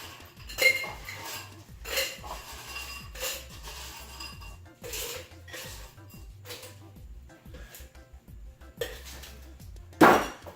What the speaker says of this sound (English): We'll add some ice to our tin.